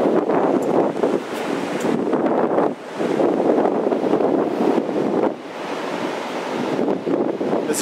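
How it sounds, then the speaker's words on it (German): Wind and ocean waves at Pismo Beach on a cold, windy day: a loud, continuous roar of surf and gusts buffeting the microphone, swelling and easing over several seconds with no talk. "Es ist ein bisschen kalt und windig,"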